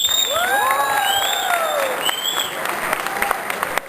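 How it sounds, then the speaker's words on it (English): An audience at a stand-up comedy show bursts into loud applause with cheers and whoops, the clapping dense and sustained, then thinning slightly toward the end. "they really deserve a round of applause"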